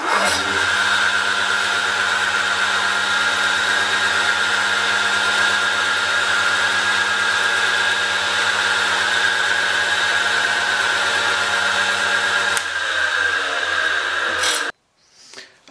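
An electric drill boring a 3.5 millimeter hole in wood gives a steady motorized whine with a rasping edge, running continuously for about twelve seconds, then shifts pitch briefly and cuts off, leaving near silence.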